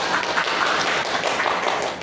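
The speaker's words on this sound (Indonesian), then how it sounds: "tepuk tangan dong buat kita" A small group claps together in a steady, brisk patter of applause that lasts a couple of seconds.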